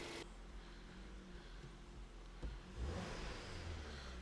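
A Ford, Mazda or Volvo car with a P0810 clutch position control fault idles just after starting, giving a quiet, steady low engine rumble with a slight swell toward the end.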